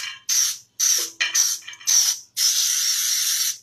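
Baking spray hisses onto cake pans for red velvet cake layers: four short, close bursts, then one longer steady spray of about a second, with no talk.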